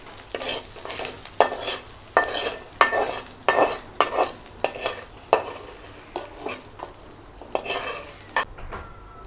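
A spatula scrapes and clinks against a pan as fried hilsa fish is lifted out with the stove turned down. The strokes come in a quick, uneven series, close and fairly loud, with no talking.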